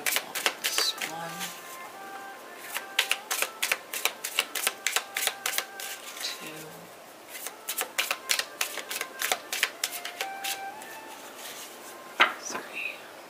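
Tarot cards are shuffled in rapid bursts of crisp, papery riffles and taps, close and fairly loud, with short pauses between runs and a soft voice speaking now and then.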